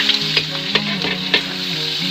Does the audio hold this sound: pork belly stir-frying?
yes